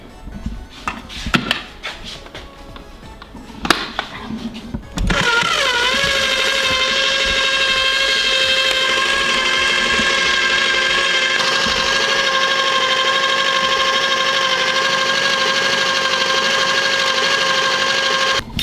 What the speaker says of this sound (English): We blend it.